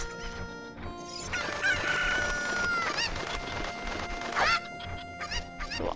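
Game chickens in Zelda Ocarina of Time on the Nintendo 64 cluck and crow over a busy backdrop of synthesized music and sound effects, loud and continuous across the whole stretch.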